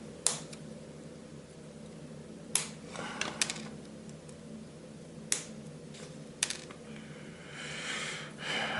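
Plastic wheel parts of a 1:48 scale Airwolf model kit snipped off the sprue, several sharp isolated clicks spaced a few seconds apart over a quiet room hum.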